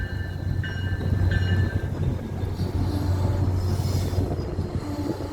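An inbound commuter train on the Needham Line rolls past, cab car leading, in a loud, steady rumble of wheels on rail with a low motor drone and faint squeals, heard close from the platform.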